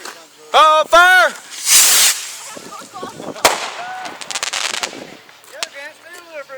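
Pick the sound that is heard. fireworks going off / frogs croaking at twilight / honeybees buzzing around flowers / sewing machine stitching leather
fireworks going off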